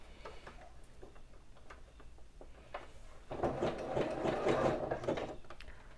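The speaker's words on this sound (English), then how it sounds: "It's always good to do a little reverse stitch if you're starting a new side." A sewing machine stitches fabric for reusable toilet paper, first a few light ticking clicks as the work is positioned, then a steady close mechanical whir of continuous stitching for the last few seconds.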